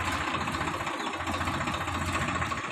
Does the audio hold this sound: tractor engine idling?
yes